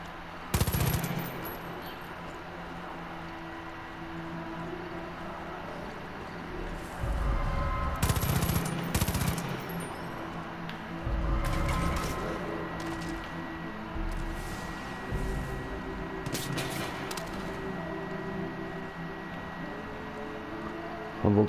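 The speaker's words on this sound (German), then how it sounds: "Von wo kommen jetzt die Schüsse?" Gunfire in the video game Far Cry 5 erupts in several loud, sharp bursts spread across the stretch, with rapid volleys clustered in the middle and near the end over a steady background of game ambience.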